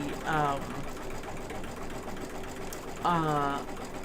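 An embroidery machine stitches a zigzag on a zipper bag project with a continuous mechanical hum, while two short bursts of voice come through over it.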